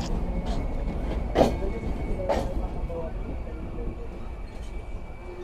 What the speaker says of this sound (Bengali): আন্তনগর কপোতাক্ষ এক্সপ্রেস প্রবেশ করছে যশোর রেলওয়ে জংশন স্টেশনে